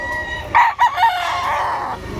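A yellow-legged street-comb rooster at a busy tiangge market in Batangas lets out one loud, close crow in broken bursts, with faint market murmur underneath.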